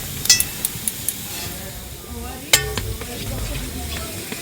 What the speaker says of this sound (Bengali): এই ঘিয়ের মধ্যে দিয়ে ভেজে নেব। হালকা করে ভেজে নিয়েছি।